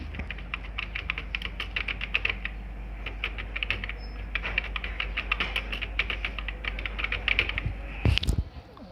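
A name being typed into an online application form on a computer keyboard, brisk close-up key clicks in uneven bursts with a louder clack near the end, no talking.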